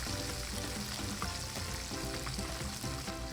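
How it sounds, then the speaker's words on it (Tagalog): Tanigue fish steak fries in oil over medium heat under a splatter screen, giving a dense, continuous sizzle with small crackles and pops throughout and no voices. "Piniprito ko lang yung isang side ng mga 4 hanggang 5 minuto sa medium heat."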